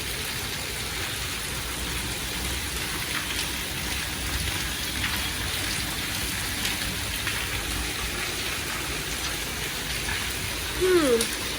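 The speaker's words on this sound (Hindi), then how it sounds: "हमारे यहाँ पे बारिश बहुत ज़्यादा आ रही है।" Heavy afternoon rain pours down steadily as a dense, constant hiss throughout, with a brief louder splash or gush near the end.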